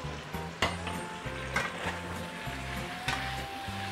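Prawns in oyster sauce with red chili slices and green onion sizzle loudly in a pan, with rhythmic tossing and a few sharp metallic knocks as the pan is worked.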